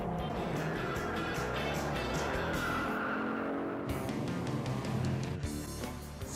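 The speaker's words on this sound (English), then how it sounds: "Screeching rubber through turns" Classic American muscle car tires screech repeatedly through turns, loud squeals over engine roar, with cars sweeping past in bursts.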